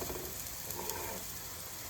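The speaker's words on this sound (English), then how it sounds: "You wanna wait until the olive oil is hot, so when you put them in the pan, you hear that nice sizzle." Eggplant slices sizzle in hot olive oil in a shallow-coated pan, a soft, steady hiss of frying that stays even and fairly quiet from start to finish.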